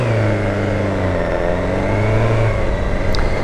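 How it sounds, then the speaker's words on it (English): A 600cc four-cylinder motorcycle fitted with a Leo Vince aftermarket exhaust drones loud and close at high revs, its pitch holding steady with slight rises and no voices. "this bike with an aftermarket exhaust just sounds like an absolute beast"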